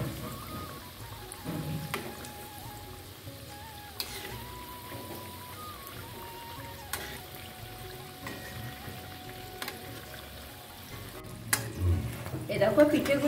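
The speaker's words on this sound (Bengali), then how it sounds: "প্রত্যেকটা পিঠে কিভাবে ফুলে উঠেছে আমি এবার উল্টে পাল্টে দিচ্ছি।" Moong dal pitha fry in oil while being turned, a soft ongoing sizzle broken by occasional sharp clicks and scrapes of the utensil, louder near the end.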